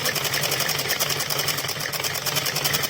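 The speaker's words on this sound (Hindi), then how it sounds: "ये मैंने अब सिलाई लगा दिया" A sewing machine stitches fabric for a top, a fast, even, rapid chatter of the needle running continuously at close range.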